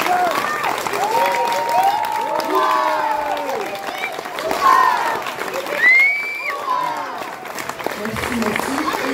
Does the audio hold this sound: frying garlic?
no